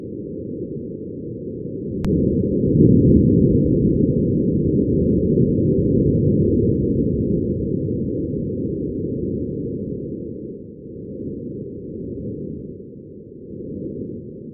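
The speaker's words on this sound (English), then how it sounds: "Lastly, this is the sound of wind on Mars." Wind on Mars, recorded by the Perseverance rover, comes through as a continuous low, muffled rumbling whoosh that swells and eases in slow gusts, dull and bass-heavy with no crisp high detail.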